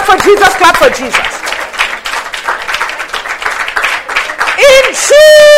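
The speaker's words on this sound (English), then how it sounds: "Come and give a clap for Jesus if you have escaped." Church congregation clapping and cheering together, a dense broadband patter of hands blended with shouting voices and singing over most of the stretch, loud and close.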